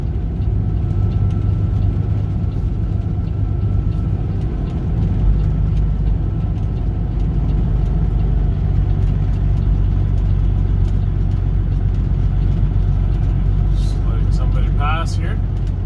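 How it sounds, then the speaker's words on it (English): Cars drive past on a tiny back road toward a small lake, making a steady close engine rumble and tyre noise that runs without a break, with a brief rattle near the end. "it's amazing how many cars are on here for such a tiny road"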